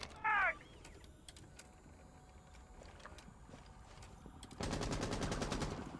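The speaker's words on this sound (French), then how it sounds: "On entend justement les balles qui partent du MK17." Rapid burst of MK17 rifle fire in a Rainbow Six Siege esports match, a dense, steady rattle of shots near the end after quieter in-game ambience and a brief high electronic chirp.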